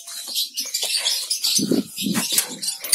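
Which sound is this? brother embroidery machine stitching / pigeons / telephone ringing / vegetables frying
pigeons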